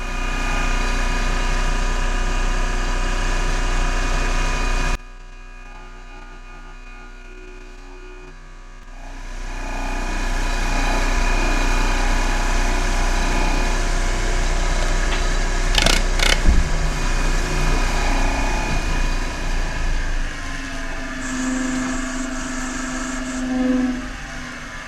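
A wood lathe spins a beech yarn bowl at 1800 RPM, giving a loud, steady motor whine and hum that drops briefly, then returns and holds with a few faint scraping touches.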